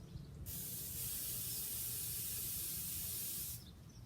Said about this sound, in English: we're going to spray this all over our liver.